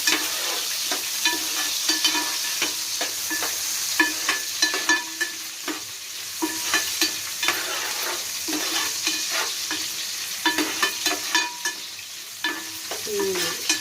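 Onion pieces fry in oil in a pan for a traditional Sankranti mixed-vegetable curry, with a steady close sizzle and regular scraping strokes of a stirring spoon.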